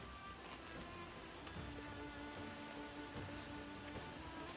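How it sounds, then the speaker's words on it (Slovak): Steady rain falls on an outdoor surface, a dense, continuous patter of drops at even loudness throughout with no talking. "Úžasný dážď."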